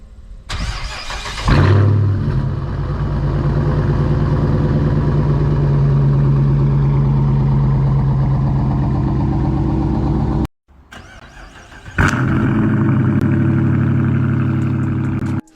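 A Dodge Challenger R/T fitted with a Flowmaster Outlaw catback exhaust fires up with a loud bark and settles into a deep, rumbling idle. The sound cuts out briefly, then the engine restarts with another sharp blip and keeps idling loudly.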